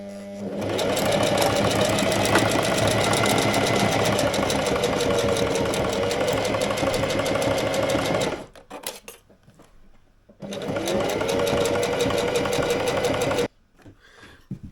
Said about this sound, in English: You may have noticed that my sewing machine is running a lot slower.